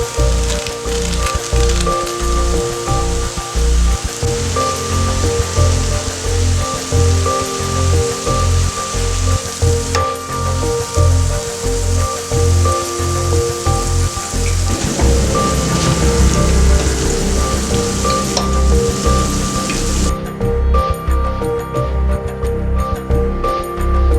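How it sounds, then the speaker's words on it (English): Jalebi batter fries in hot oil with a steady, loud, close sizzle and bubbling hiss that continues throughout, briefly shifting in texture near the end, with no speech. "Fry for about 4 to 5 minutes, maybe more, depending on the size of the jalebi."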